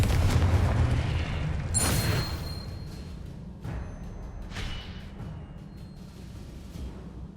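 In the video game Hogwarts Legacy, a Confringo fire spell sets off explosions: several heavy booming blasts with a sharp crack near the middle, one after another over a loud rumbling bed that slowly fades.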